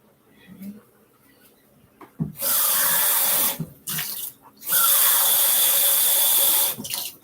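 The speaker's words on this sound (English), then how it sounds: "I might add some more water after I add the rice" Tap water pouring into a pot of lentils and rice for mujadara, two loud steady bursts of running water, the first about a second long, the second about two seconds, with quieter kitchen sounds and a voice around them.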